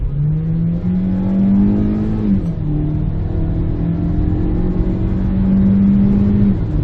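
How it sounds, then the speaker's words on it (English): A 2020 Kia Soul GT Line Turbo slows down with a couple of downshifts, its engine drone heard from inside the car rising and dropping in pitch as the gears change, steady and fairly loud. "I'm going to slow down here a little bit. I'm going to downshift a couple times."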